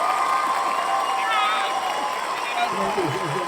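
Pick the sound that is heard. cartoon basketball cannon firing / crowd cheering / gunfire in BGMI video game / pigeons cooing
crowd cheering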